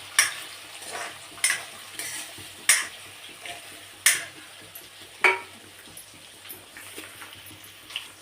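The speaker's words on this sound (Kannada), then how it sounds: "ಇದು ಮನೇಲೇ ಮಾಡಿರೋ ಪನ್ನೀರು ಇದನ್ನು ಸ್ವಲ್ಪ ಫ್ರೈ ಮಾಡ್ಕೊಬೋದು" Homemade paneer fries in a pan under a faint sizzle, punctuated by several sharp scraping and clinking strokes of a utensil against the pan, spaced a second or so apart, with no voices.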